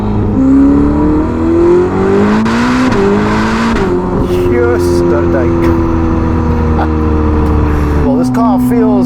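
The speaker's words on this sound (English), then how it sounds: "A bit of engine noise I'm actually hearing back there." A Ferrari SF90 fitted with a Novitec exhaust hums steadily from behind the cabin, its engine note rising and shifting in pitch while driving, heard under continuous talk inside the car.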